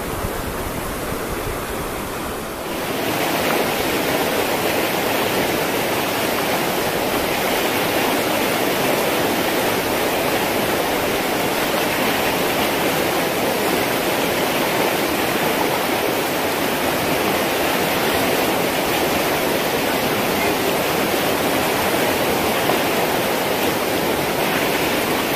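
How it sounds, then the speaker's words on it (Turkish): The Chuy River in the Altai mountains rushes past, a loud, dense, unbroken roar of flowing water heard close by with no voices. "Çuy Nehri'nin kenarındayım."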